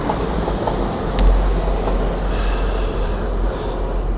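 TransPennine Express Class 185 diesel unit at York station, a steady low rumble of the train moving close by, with a brief sharp clank near the start.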